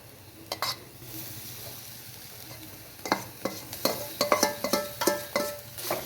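Fish cutlet mixture with pieces of fish being stirred and fried in a pan, soft sizzling under a run of scraping spoon strokes that grow louder and more frequent in the second half.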